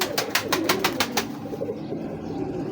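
Breeder pigeons coo nearby, a short series of regular soft pulses over a steady low murmur that fades out after a second or so.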